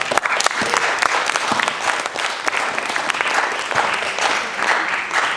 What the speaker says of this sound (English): Can we clap it up for the people on top?